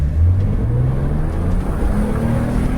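A car launches hard off the line in a drag race, its engine note loud, close and steady throughout as it accelerates.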